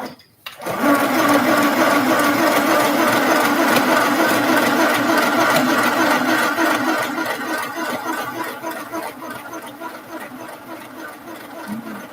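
A sewing machine runs steadily stitching a narrow zigzag, its motor whirring continuously and close up for about ten seconds before slowing slightly toward the end.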